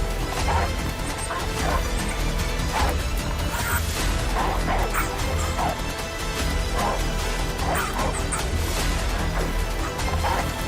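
African wild dogs in the Serengeti bark, yip and whimper in a chaotic fight, with repeated sharp yelps and scuffling over a dense, loud, continuous background that persists throughout.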